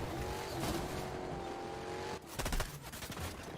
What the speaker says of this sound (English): actually run them over with the pizza muscle car